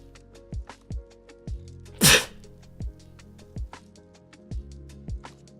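One sharp sneeze bursts out near the middle, louder than everything around it, over a steady beat of low thumps and a background of sustained musical tones.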